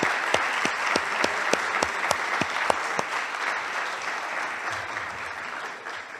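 An audience at a talk applauds a participant, a steady burst of many hands clapping close and fairly loud, with a few sharp single claps standing out before the sound thins and fades.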